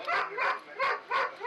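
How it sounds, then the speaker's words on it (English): A police dog barks and yips close by in a quick series of four sharp, repeated calls with whimpering tones, heard alone without speech. "Invercargill Sergeant Wally Kopai and his dog Buddy are on the scent of a very strange case"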